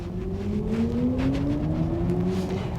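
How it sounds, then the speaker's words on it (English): A BMW iX electric SUV accelerates, its electric motor giving a steady rising whir with two climbing tones over continuous road and cabin rumble, fairly loud and without talk. "you also hear the ramping up of the electric motor. It gives this whirring sound."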